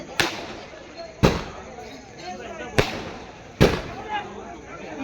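Firecrackers burst during a household religious ceremony: four sharp, loud bangs spaced roughly a second apart, each with a brief crackling decay, over faint background murmur.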